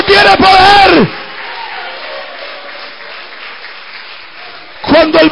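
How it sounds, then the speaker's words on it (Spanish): Congregation applause at a Spanish-language church worship service and sermon, a steady wash of clapping and crowd noise lasting several seconds, with loud amplified speech before and after. "¿Cuánto pueden dar un aplauso a Cristo?"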